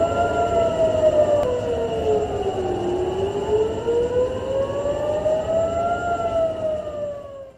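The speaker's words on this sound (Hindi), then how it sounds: "बहरीन में हमले के सायरन बजने लगे हैं।" Air raid sirens wail across Bahrain during an attack, the tone sliding slowly down and back up in long sweeps, loud and continuous with a layered second siren and background rumble.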